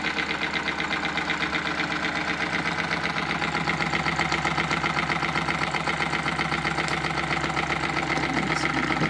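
A small steam engine drives a generator, a fast, steady chuffing and knocking rhythm that runs continuously up close at an even, fairly loud level.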